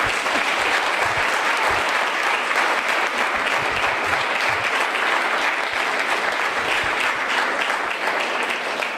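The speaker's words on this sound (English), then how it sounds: "let's give a warm welcome and a round of applause to the committee" A conference audience gives the panel committee a round of applause, steady and dense clapping from a large crowd that holds at an even volume throughout, with no talk over it.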